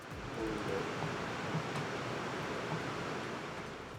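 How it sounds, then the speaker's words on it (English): Lenovo Legion 7i gaming laptop fans running in performance thermal mode while plugged into a 230 watt power brick, a steady, even rushing whoosh of airflow, faint and constant with no talk. "with the laptop plugged in with its 230 watt power brick and thermal mode set to performance, the laptop fans can sound something like this"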